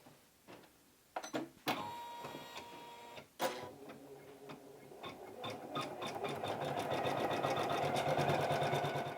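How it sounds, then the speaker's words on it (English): A home embroidery machine stitches out an appliqué placement line, starting with a few clicks and clunks before settling into a quick, steady mechanical chatter that grows louder, close up and without talk. "I'm going to start stitching out the first step of this. And this is going to outline where I place my fabric for the applique"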